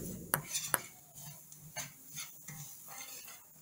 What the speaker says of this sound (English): I'm putting my onions in here now. Keep stirring.